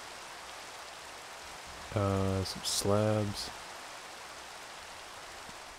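Steady Minecraft rain falls as a soft, constant hiss throughout, with a voice speaking briefly over it.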